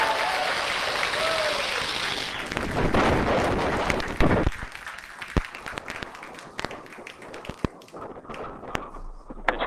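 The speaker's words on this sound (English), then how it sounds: "Ignition. And liftoff. Go Falcon, go" Falcon 9 rocket engines igniting and lifting off on a Starlink Group 4-13 launch, a loud broad crackling roar that fades into sharp pops and distant rumble, with cheering and clapping from a crowd.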